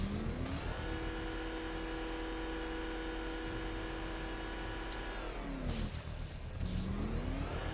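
A car engine revs in Batman: Arkham Knight, a steady sustained drone with a tonal whine that swells around second six, then settles back to a continuous level hum.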